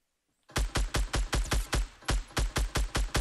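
Rapid sniper rifle gunfire in the Fortnite video game, about a dozen loud, evenly spaced shots in quick succession after a moment of silence.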